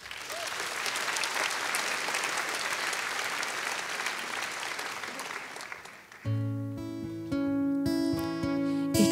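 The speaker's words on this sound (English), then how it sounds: "Please give a warm hand of applause for Mo" An audience at an academic year opening ceremony gives a sustained, dense round of applause for about six seconds, then music with sustained tones starts over the fading clapping.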